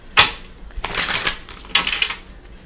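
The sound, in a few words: shuffling tarot cards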